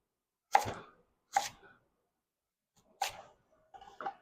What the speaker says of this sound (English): now I'm just going to cut this into the same sizes